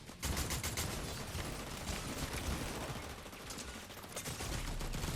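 Sustained bursts of rapid gunfire from a purple gun in Fortnite, loud and dense throughout, with shots overlapping in a continuous clattering barrage and a brief lull near the end.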